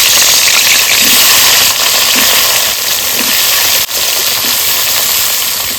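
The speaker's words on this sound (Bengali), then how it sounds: "এই তেলে বেগুনগুলো হালকা ভেজে নেব।" Eggplant pieces frying lightly in hot oil left over from frying hilsa fish, a steady loud broadband sizzle and hiss running throughout with no talk.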